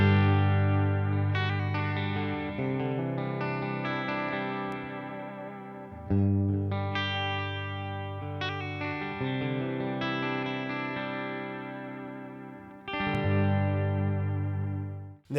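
Electric guitar through a Quad Cortex US Prince amp model rings out in sustained chords and picked notes, clean with a slight grit and chorus-like shimmer, phrases fading then restruck, played alone.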